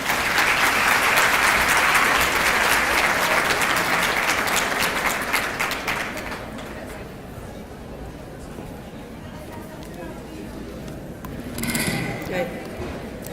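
Audience applause at an early-childhood education conference welcoming a speaker, loud and dense for about six seconds, then fading to a quieter room with scattered sounds and a brief burst near the end.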